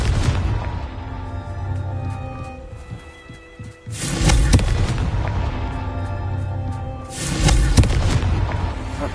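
Two heavy explosive booms from the Confringo blasting spell in the Hogwarts Legacy video game, each a loud burst followed by crackling debris, set over a low rumbling game ambience.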